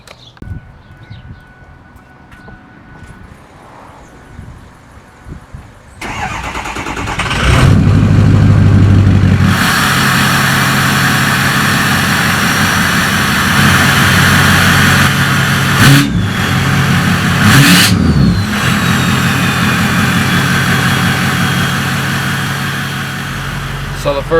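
A straight-piped 6.0 Powerstroke diesel truck with an axle dump cranks and fires up after a quiet stretch, then settles into a loud, rough idle close by with several sharp revs, and a voice comes in faintly.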